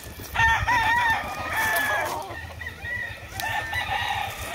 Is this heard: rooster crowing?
yes